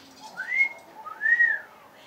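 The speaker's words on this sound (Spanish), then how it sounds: "Si tú tienes muchas ganas de silbar" A person whistles two rising-and-falling melodic phrases, clear and close, alone with no talking.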